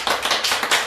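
An audience claps after a talk about public perceptions of released prisoners, a short burst of several quick, close hand claps in an uneven rhythm, heard alone without voices.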